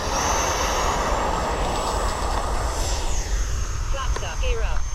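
A heavily loaded radio-controlled model plane at full throttle with flaps out on its takeoff run, a steady loud engine drone filling the clip with a rising tone near the end and a voice talking over it.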